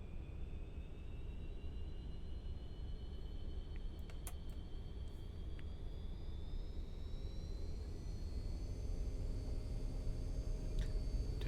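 Twin rear-mounted jet engines of an MD-88 airliner spool up to takeoff power, a steady loud roar with rising whine tones building over the whole stretch, heard from inside the cabin with no talking.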